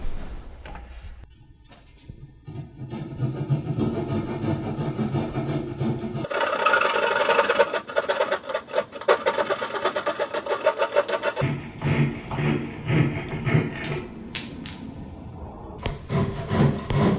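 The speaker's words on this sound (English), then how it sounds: "Now I'll just flush these splines with a flush trim saw." Hand-held flush trim saw cutting walnut splines flush with a picture frame's corners, a close, rhythmic rasping of quick back-and-forth strokes that grows busier and louder midway, with no talking.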